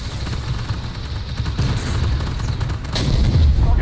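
Tank gunfire and heavy booms from the armored combat game Armored Warfare, with repeated loud blasts and rumbling impacts through the clip, the strongest bursts near the end.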